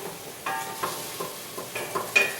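Meats for feijoada sear over a high flame in a covered pan, giving a soft, steady sizzle with gentle rhythmic stirring scrapes every half second or so.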